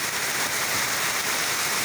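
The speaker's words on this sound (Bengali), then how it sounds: "গুলশানে কিন্তু প্রচুর বৃষ্টিপাত হইতেছে" Heavy rain pours down in Gulshan as an even, dense roar of falling water, loud and steady throughout with no voices.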